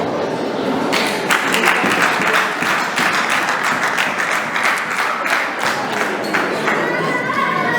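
A church congregation applauds at a choir's twentieth-anniversary jubilee celebration, steady dense clapping filling the whole stretch, loud and close, with a few voices mixed in.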